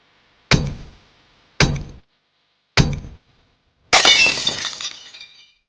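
Safety glass in a video game gets struck three times, each a sharp, close clinking thud, followed by a longer crash of breaking and shattering glass that trails off.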